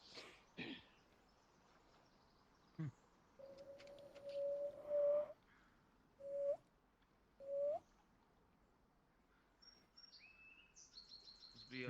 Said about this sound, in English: This is probably just a bird.